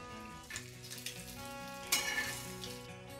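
Eggs frying in a pan, a soft continuous sizzle with brief crackling bursts, heard close and fairly quiet with no talk.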